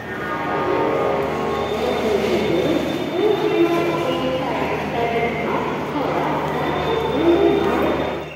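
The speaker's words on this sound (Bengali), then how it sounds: "ট্রেন ছেড়ে দিয়েছে" A train departing Howrah station rumbles steadily with rolling wheel noise and a faint metallic squeal, crowd murmur and voices mixed in throughout.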